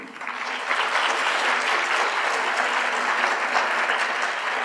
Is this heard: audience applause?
yes